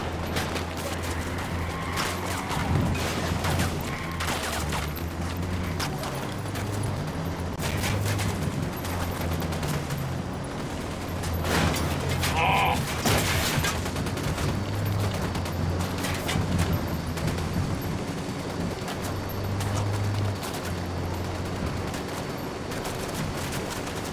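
Squad gunfire in Ghost Recon Wildlands, sustained bursts of rifle and machine-gun shots with sharp cracks scattered across a steady rumble of battle, mid-distance and loud throughout, with no talk.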